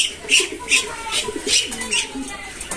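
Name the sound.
pigeons cooing on a poultry farm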